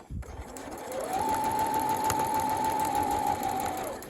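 A domestic sewing machine stitches a lapped zip about 5 mm from the zipper coils, running in one steady, close, continuous burst of whirring for about three seconds before slowing to a stop.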